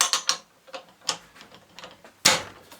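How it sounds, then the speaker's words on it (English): A telescopic tyre wrench works on a Subaru Impreza, giving a close, irregular series of sharp metallic clicks and ratcheting snaps with short pauses between, ending in one louder clack. "I'm going to use my telescopic tyre wrench"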